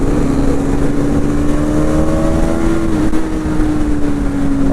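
A Bajaj Pulsar NS 125 motorcycle fitted with an Akrapovic V2 exhaust revs loudly and close by, a continuous droning engine note that dips slightly partway through, with other bikes around on the road.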